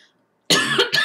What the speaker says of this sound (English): think I'm getting a cough.